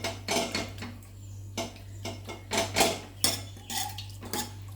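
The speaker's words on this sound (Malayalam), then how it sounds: "ഇപ്പം നമ്മുടെ കടലയൊക്കെ നല്ലപോലെ വെന്തിട്ടുണ്ട് ഇനി നമുക്ക് പതുക്കെ ഒന്ന് ഉടച്ച് കൊടുക്കാം" Cooked white chickpeas being mashed in a metal pot for kadala curry: repeated clanking and scraping strokes of a utensil against the pot in an uneven rhythm, close and clear, with a low hum underneath.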